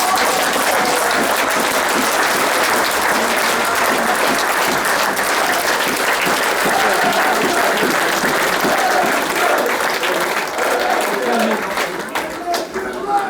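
Football fans give a long round of applause, a dense, loud wash of clapping near and far that holds steady before starting to thin out near the end.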